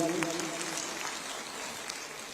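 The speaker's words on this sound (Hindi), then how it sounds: "तो एक बार उनके लिए ताली बजा दीजिए।" Audience at a public government event applauding for the local MLA, a broad, fairly distant wash of clapping that holds steady and fades slightly, with a voice briefly audible at the start.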